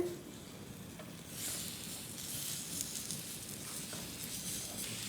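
Rice hitting a hot sizzler plate on a stove gives a steady, close hiss and crackle of frying, with a brighter sizzling burst after the first second that continues evenly to the end.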